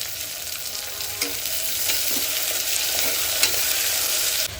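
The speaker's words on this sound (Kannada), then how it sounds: "ಇವಾಗ ಈರುಳ್ಳಿ ಹಾಕೋತಾ ಇದ್ದೀನಿ ಹಸಿ ಹಸಿಮೆಣಸಿನ್ಕಾಯಿ ಕೂಡ ಹಾಕ್ಕೊಂಡು ಚೆನ್ನಾಗಿ ಇದನ್ನು ಫ್ರೈ ಮಾಡ್ಕೊಳ್ಳೋಣ" Onions and green chillies fry in hot oil with cinnamon and cloves for coconut milk rice, a loud, steady close sizzle with occasional scraping stirs.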